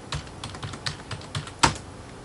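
Fingers type on a computer keyboard in a short run of quick, light key clicks, with one sharper tap near the end, close and clear with no talking.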